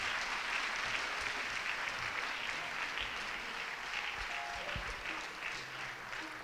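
A standing audience at a 2024 Peralta Colleges African/African American graduation celebration applauds to welcome the new chancellor, with steady dense clapping from a large crowd, fairly distant and even throughout.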